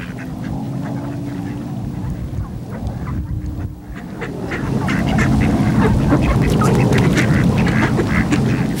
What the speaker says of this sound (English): 70 wild ducks in here, and they bring their young up every year in here.